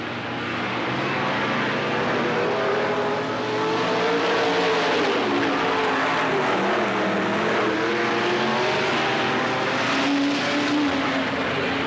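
Modified race cars roar around the dirt oval at Riverside Speedway (Cottage Grove Speedway) in 1991, a dense, continuous engine din with swelling and fading revs as several cars race together.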